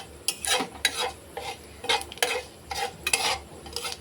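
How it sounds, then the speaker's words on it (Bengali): Drumstick-stem pickle stirred in a pan with a utensil, with dried red chilli tempering, giving repeated scraping strokes about every half second over a faint sizzle, close and fairly quiet with no talking. "ভালো করে এবার এটা নাড়াচাড়া করে নেব।"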